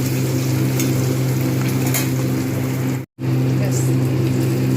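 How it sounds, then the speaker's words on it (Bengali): Rohu fish pieces frying in hot oil give a steady, close, dense sizzle throughout, with a very brief dropout near the end before the crackle resumes. "ব্যাস, মাছ ভাজা হয়ে গেছে, এবার তুলে নেব।"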